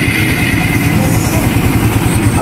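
A motorcycle with its balance set and compression release removed runs loud and close, a steady, rough, clattering idle with no pause throughout.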